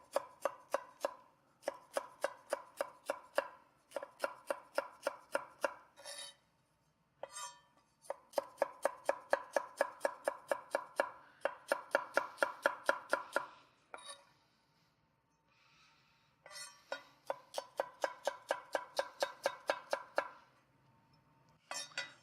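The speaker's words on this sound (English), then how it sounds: "because of the conformation of the celery being sort of curved, I like the idea of actually cutting it on a bias" Knife chopping curved celery stalks on a bias into half-moon slices, heard as rapid, even bursts of close, crisp cutting-board taps separated by short pauses, with no talk.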